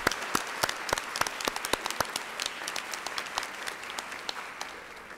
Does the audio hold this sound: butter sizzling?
no